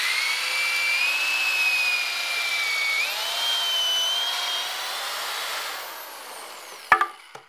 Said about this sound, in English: I have my hand so I can push down on the drill and just drill